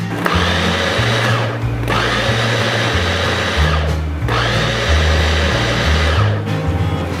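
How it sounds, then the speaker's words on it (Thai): Electric blender whirring through durian cheesecake filling, a loud steady motor drone in two long runs with brief pauses between, no voices. "ปั่นส่วนผสมให้เข้ากันอีกหนึ่งรอบค่ะ"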